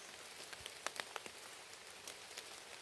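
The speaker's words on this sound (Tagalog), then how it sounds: "Ay, nabutan talaga tayo ng ulan." Rain on a surface, outdoors, a faint patter of scattered drops with a few sharper taps standing out against steady low background noise, no talking.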